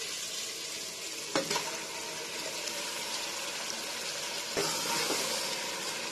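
Marinated mutton frying in oil for Hyderabad mutton biryani, a steady close sizzle with a couple of scraping stirs of the ladle, no talking.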